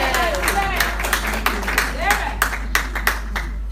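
Wedding audience clapping in scattered bursts, with sharp irregular claps rising toward the end while a voice talks over them.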